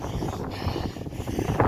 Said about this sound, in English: So yeah, it's quite windy